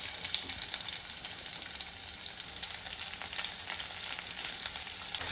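Sliced onion hits a pan of ginger and green chilli already sautéed in oil for Kerala-style onion mezhukkupuratti, giving a steady, dense sizzle that stays even and close throughout with no voices.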